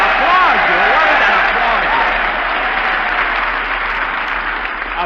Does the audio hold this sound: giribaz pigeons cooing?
no